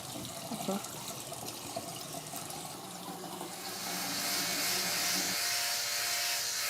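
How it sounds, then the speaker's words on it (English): Brushing teeth at a sink: a steady rush of running tap water with faint scrubbing, growing louder and brighter midway, close by, with some quiet talk near the start. "Just step a little bit closer to the sink so you can brush your teeth for me."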